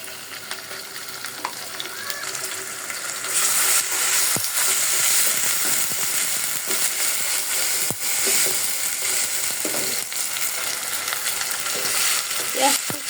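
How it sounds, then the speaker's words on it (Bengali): Ground spice paste and onions frying in a pan for a chicken and ash gourd curry, a constant loud sizzle with stirring clatters and occasional utensil knocks. "এখন বাটা মশলাটা দিয়ে দিব।"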